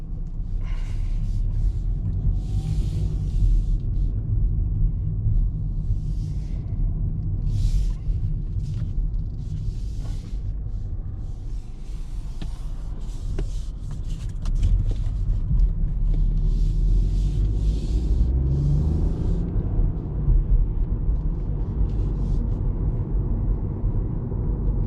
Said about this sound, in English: the engine sound is maybe even better than the ones from Mercedes